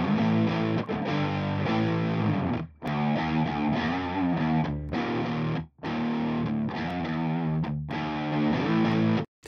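Electric guitar chords and riffs with a mild, fuzzy distortion, played in phrases separated by short pauses.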